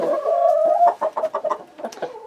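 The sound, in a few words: chickens clucking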